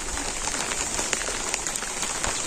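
Rain falls steadily on a village home, a dense close hiss with scattered drips and patters on surfaces and no voices.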